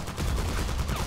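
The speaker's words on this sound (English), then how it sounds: "Why are you shooting a teammate?" Rapid gunfire in a Revive Heroes soldier match, a dense burst of shots fired at a teammate that rattles on close and continuous for about a second.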